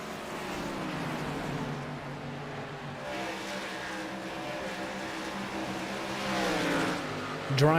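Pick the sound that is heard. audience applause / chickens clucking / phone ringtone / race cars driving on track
race cars driving on track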